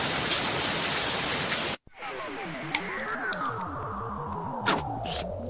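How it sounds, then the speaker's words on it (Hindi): Heavy rain pours down in an animated cartoon scene of the early Earth, as cooled air and magma give way to a downpour forming the oceans; a dense steady hiss, briefly cut off, then resumes with scattered sharper effects. "बहुत तेज बारिश हो रही है।"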